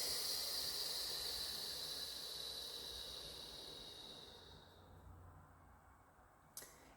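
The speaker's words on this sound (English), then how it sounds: "take a deep breath." A slow, deep breath drawn in and let out as a soft, airy hiss that fades gradually over several seconds, faint and close, ending in a small click, with no speech.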